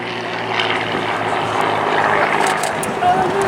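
An Extreme XA41 carbon composite aerobatic plane with a Lycoming 580 engine drones past at an airshow. Its propeller roar is steady and moderately distant beneath a commentator's voice.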